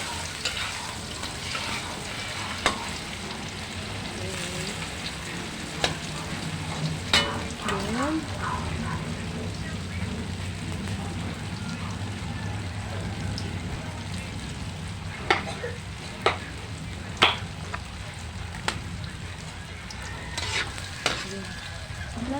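Vegetables sauté in a pan for a home-cooked Filipino ginisang gulay, with a continuous sizzle and occasional stirring scrapes and clinks, a voice speaking faintly in the background.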